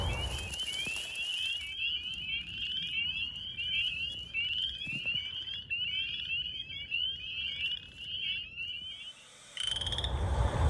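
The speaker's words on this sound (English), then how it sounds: "To some of the most sensitive frogs in the St. Louis region, like the spring peepers" Spring peepers in a vernal pool give a dense, steady chorus of high, repeated peeps that runs loud and close almost throughout, then cuts off near the end.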